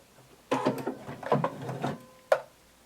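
A sewing machine stitches close to the folded-over edge of a little black dress hem, two bursts of near, steady mechanical whirring followed by a single sharp clack.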